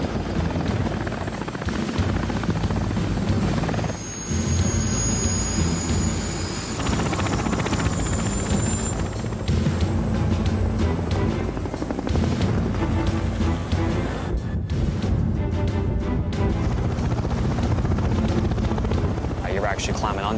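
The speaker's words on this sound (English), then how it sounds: "We have 2 Apache helicopters and 4 Chinook helicopters coming into our 4 points here." Military Apache and Chinook helicopters arrive at a forward base in Afghanistan, their rotors and engines making a loud, continuous beating roar that drowns out a talking voice.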